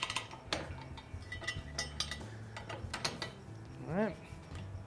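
Bolts fastened onto pool coping through holes drilled in the top rib, giving brief metallic clicks and ratcheting taps scattered across a few seconds, fairly close.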